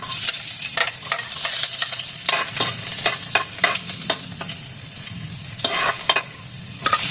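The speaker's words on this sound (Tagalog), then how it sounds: "Gisa na natin itong bawang." Garlic sautéing in rendered pork fat, a loud close sizzle broken by repeated scraping stirs of a utensil against the pan, with no voices.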